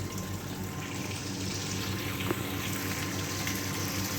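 Water flows steadily through a Bernoulli's theorem apparatus, a continuous close gushing and trickling as it drains past the valve, with one faint click partway through.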